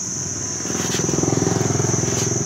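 A Mitsubishi TLE27 grass cutter's small two-stroke engine idles and then picks up into a rapid, buzzing putter, close and loud with a steady high whine above it.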